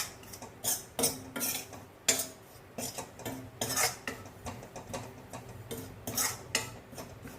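Amchur (dried mango) powder being dry-roasted in a pan, stirred with a metal spoon that scrapes and clinks against the pan in steady, repeated strokes, close and clear, with no talking.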